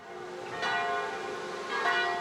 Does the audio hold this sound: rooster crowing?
no